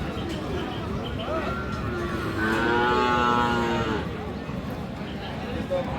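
At a rural cattle market selling sacrificial and meat bulls, a cow lets out one long, drawn-out moo mid-way, standing out over a constant murmur of crowd noise and background chatter.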